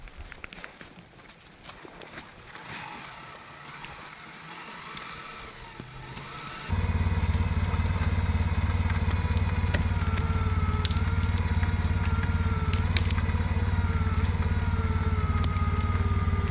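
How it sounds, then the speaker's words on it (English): An ATV winch drags a log by cable in the woods. After several seconds of quiet rustling and handling noise, the winch motor kicks in with a loud, steady whine and hum that continues unbroken to the end. "Well, I can't manhandle that back there, so I got to use the winch."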